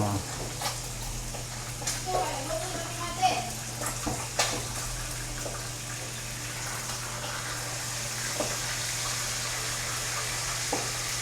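Fish frying in hot oil while a cook named Maddie stirs it, with calamansi on hand; a steady broad sizzle runs throughout with a few sharper pops, under intermittent nearby talk.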